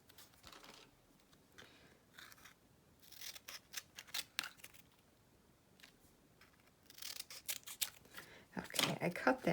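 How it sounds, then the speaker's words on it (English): Scissors snip through coin roll paper in quiet, close, crisp clusters of rapid cuts, separated by pauses with soft paper handling between them. "I cut that one instead of ripping it because I wanted it straight"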